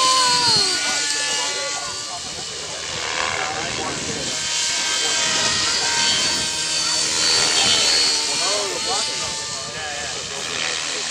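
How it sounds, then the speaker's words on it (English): An electric battery-powered model helicopter flies nearby with a steady high whine and whirring rotor that swells and fades as it maneuvers. People talk over it. "as you can see, it'll run that helicopter"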